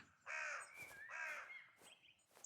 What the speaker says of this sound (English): Oh, listen to the bird.